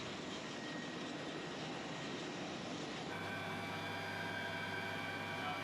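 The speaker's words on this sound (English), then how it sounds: "This morning, we're ready for takeoff at about 8:45." A NASA ER-2 high-altitude aircraft sits ready for takeoff, its engine giving a steady loud broadband roar that shifts partway through into a more tonal whine with a low hum, with no talking.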